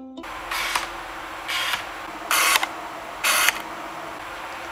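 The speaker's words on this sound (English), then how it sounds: "investigate the focusing speed and sound of this lens" Autofocus motor of a Canon EF 50mm f/1.8 II lens whirring in four short, buzzy bursts, each under half a second, separated by quiet gaps; a close, mechanical grinding drive with a faint click at the start and no talking.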